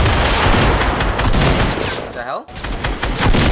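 Gunfire in Fortnite, rapid loud bursts of shots crackling almost continuously, with a brief break near the middle and a short spoken exclamation over it.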